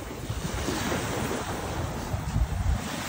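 Rough sea surf breaking at the shore beside a resort, a constant roar of waves mixed with heavy wind buffeting the microphone, loud and close with swells rising near the end.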